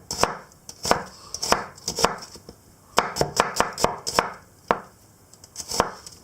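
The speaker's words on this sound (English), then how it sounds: "So just roughly chop, nothing spectacular. 1 whole onion." A knife roughly chops a whole onion on a board, about two dozen sharp close thuds in quick uneven bursts, with no talking.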